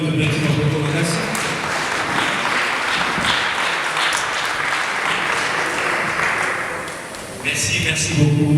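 A congregation at a memorial gathering for a journalist applauds loudly and steadily, the dense clapping briefly easing near the end before swelling again, with some voices mixed underneath.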